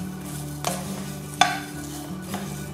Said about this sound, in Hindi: यहाँ पे मैं सारे इंग्रेडिएंट्स एक ही साथ सेक रही हूँ।